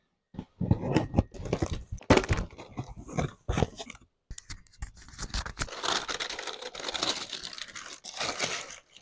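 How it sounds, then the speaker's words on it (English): Cardboard box holding vintage Red Wing 1155 boots being cut open up close, with crinkling, scraping and tearing bursts in two stretches separated by a brief pause, no talk. "they are a vintage pair as we cut this box open"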